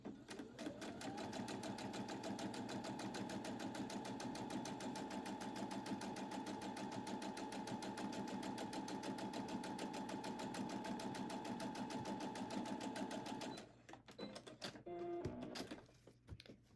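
A sewing machine stitches a quarter-inch seam on a fabric box, a loud, steady, rapid mechanical whir running continuously for most of the stretch before stopping and giving way to a few handling clicks.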